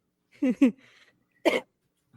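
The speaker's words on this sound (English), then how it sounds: "I'm still going to be coughing a little bit." A person recovering from a cold coughs in two quick bursts, then once more after a short pause, fairly close and clear against a quiet background.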